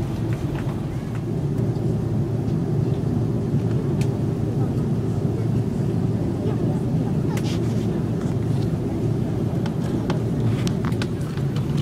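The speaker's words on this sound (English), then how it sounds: "Just parking the plane." Steady jet engine hum and whine of a plane taxiing slowly to its parking stand after landing at Hong Kong airport, with faint clicks and rattles, heard from inside the cabin.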